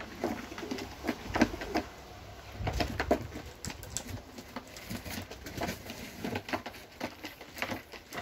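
Young smoky dun roller pigeons, a show-flight strain, in a coop, giving soft cooing and scattered wing flutters and patter close by, with a bit of low room noise.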